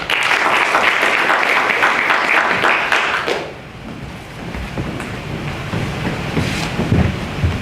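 Audience applause at a Korean youth forum event, a loud sustained crowd of clapping hands that fades into softer scattered claps and room murmur.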